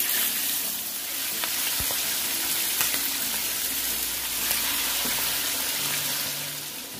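Tripe (mondongo) frying in hot oil in a pan, a steady close sizzle with occasional sharp pops and spatters running throughout.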